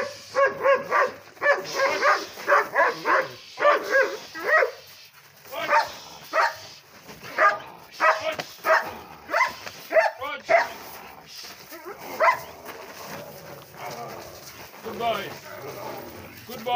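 A dog barks repeatedly in short bursts and yips, close and fairly loud, while a person talks and calls to it between barks.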